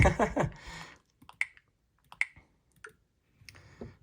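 A Nintendo Switch 2 controller button clicks several times, sharp isolated ticks spaced about a second apart in a quiet room, following a brief burst of speech at the start.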